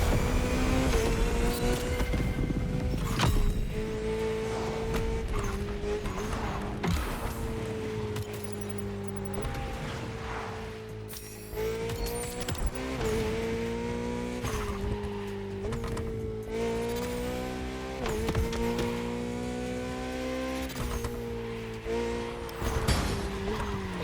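A touring car drives in The Crew Motorfest racing game, its engine droning steadily with gear-shift pitch changes, mixed with occasional tire noise and mechanical clatter, moderately loud and continuous with no speech.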